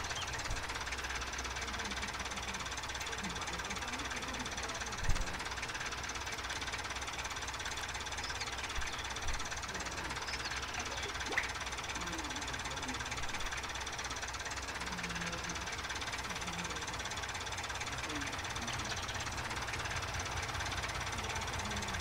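A tractor engine runs in Farming Simulator 2019, a steady knocking drone with a constant level throughout, close and alone apart from a few faint clicks.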